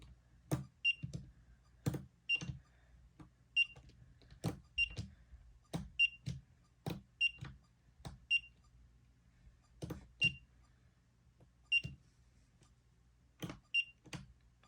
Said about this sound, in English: the piezo buzzer is a little lower pitched, which I actually like